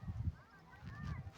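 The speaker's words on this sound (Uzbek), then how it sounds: "Qushlar uchishyapti uni yerda." Birds over a large water reservoir give a few faint, distant goose-like honking calls in short bursts.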